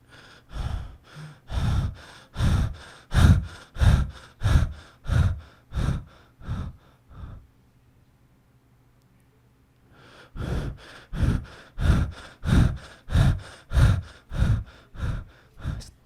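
A person imitates Cheyne-Stokes breathing, a sign of heart failure: a run of loud rasping gasps at a steady rhythm fades into a few seconds of near silence, then the gasping resumes just as strongly.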